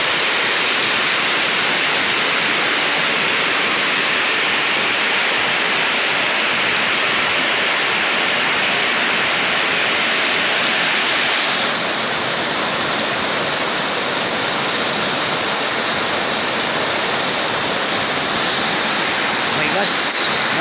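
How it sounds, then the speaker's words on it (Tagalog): Heavy rain pouring down outdoors, a loud, dense, unbroken hiss that holds steady throughout. "Binubos ang ulan."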